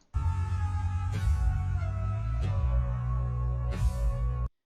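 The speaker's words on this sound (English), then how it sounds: "So you hear this kind of robotic sound." Dense, steady time-stretched music with a warbling, metallic robotic texture, holding at an even loudness with a few brief swells, then cutting off abruptly.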